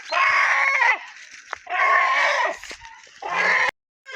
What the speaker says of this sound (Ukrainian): Пускай півня.